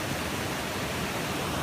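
A scenic waterfall on Algonquin's Highland Backpacking Trail gives a steady, broad rushing roar of falling water that fills the whole moment evenly, with no voices over it.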